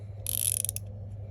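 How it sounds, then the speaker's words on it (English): Body screws being tightened on a Spyderco SpydieChef folding knife, a brief burst of close, bright metallic ratcheting and scraping lasting about half a second over a low steady hum. "So then you'll tighten your body screws"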